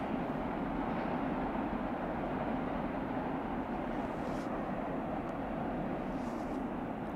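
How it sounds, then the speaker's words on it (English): A long freight train of autorack cars rolls past, a continuous steady rumble and rattle of wagons at moderate volume with no break. "That was one of the longest auto Rex trains I've ever seen."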